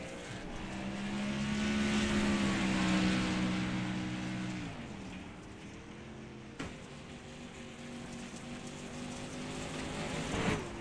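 Racing trucks on the Volusia Speedway dirt track in a NASCAR truck series event, engines droning from a distance, swelling as they pass and then fading to a lower steady hum.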